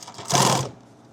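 A short, close burst of a sewing machine stitching a quick tack through fabric on a laptop bag, starting and stopping within about half a second.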